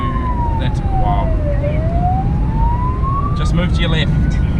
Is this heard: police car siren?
yes